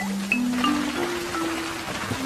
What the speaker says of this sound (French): il pleut et le château n'a pas de toit